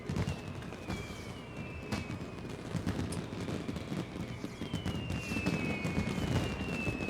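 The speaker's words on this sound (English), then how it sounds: "You get a nice little firework display." Fireworks in the video game Final Fantasy XIV: whistling rockets glide in thin descending tones over a constant crackling rumble of bursts, steady and moderately loud.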